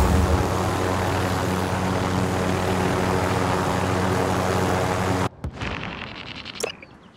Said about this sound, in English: I'm in the helicopter watching this from above.